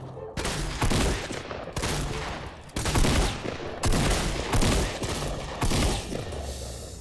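Rapid bursts of gunfire from the Fortnite Battle Royale video game crackle loudly in repeated volleys, about six sharp salvos separated by brief gaps, with game noise underneath.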